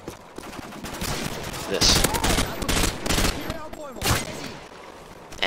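Rapid bursts of M16A4 rifle fire in a Call of Duty: Modern Warfare 2 match, close and loud, with several bursts and other game gunfire and effects overlapping, and a voice talking over them.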